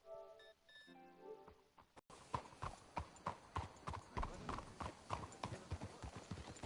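Horse hooves clip-clop in a steady trotting rhythm in Red Dead Redemption 2 Online, close and clear, with a brief musical passage at the start and a faint whinny.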